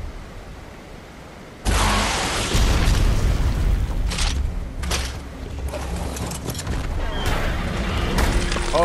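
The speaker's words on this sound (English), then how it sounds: "I basically killed it with rockets." Rocket explosions in the game ARK: a sudden loud blast erupts and keeps booming through a dense, roaring rumble with several sharp follow-up bursts, loud and close.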